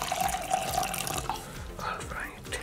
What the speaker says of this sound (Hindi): इसके अंदर हम बन पानी डाल देते हैं और सारी चीजों को मिक्स कर लेते हैं।